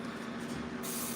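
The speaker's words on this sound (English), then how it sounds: "we'll take a little bit of that spray, lift up that lace a bit, and drop it." Hairspray sprayed onto the lace of a wig, a steady airy hiss close by that brightens and strengthens near the end of the short burst.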